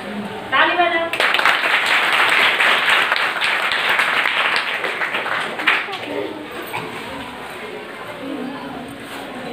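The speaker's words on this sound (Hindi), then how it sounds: "ताली बजाओ" Girls clap together at a nutrition and hygiene counseling session in Khajuraho, a burst of close, fairly loud clapping that starts abruptly and tapers off over several seconds amid faint voices.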